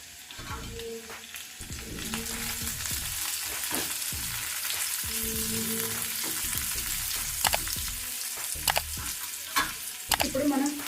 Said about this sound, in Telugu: మీడియం ఫ్లేమ్ మీద పెట్టుకొని వేయించుకోవాలి